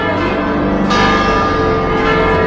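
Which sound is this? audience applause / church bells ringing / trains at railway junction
church bells ringing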